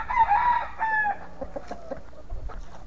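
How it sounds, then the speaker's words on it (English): A rooster crows loudly and close by among a flock of chickens, followed by scattered clucks and soft farmyard movement. "So breeding that rooster with these chickens."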